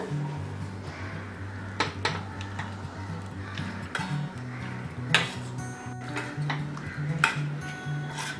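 Boiled vegetables are mashed in a pot for Mumbai-style black pav bhaji, giving irregular metallic knocks and clinks of a masher against the pot over a quiet background.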